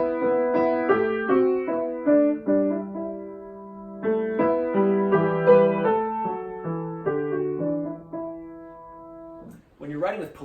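Two independent melodic lines of O Come, O Come, Emmanuel sound together in a polyphonic arrangement, with sustained notes moving stepwise for about ten seconds before a voice briefly begins speaking.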